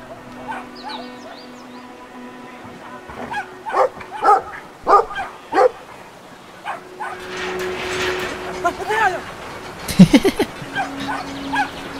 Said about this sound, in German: Ist doch bloß ein kleiner süßer Hund.